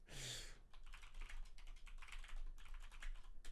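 Typing on a computer keyboard, a rapid run of close, quiet key clicks in uneven bursts after a brief louder knock at the start.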